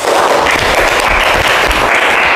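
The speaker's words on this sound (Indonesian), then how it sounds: "Coba beri tepuk tangan dulu." A classroom of students claps loudly together in a sociology lesson, a dense, even burst of applause that holds at full volume for a couple of seconds with no talking over it.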